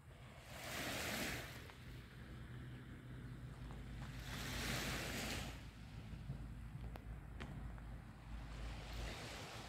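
Sea waves wash onto the coast at Vlorë, Albania, with mountains behind; three broad surges of surf rise and fall over a steady low rumble of water and wind, loud and close.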